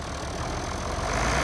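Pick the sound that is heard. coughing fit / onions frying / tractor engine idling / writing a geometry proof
tractor engine idling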